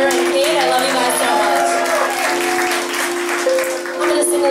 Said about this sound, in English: round of applause for this amazing band and for Kyra and Kate.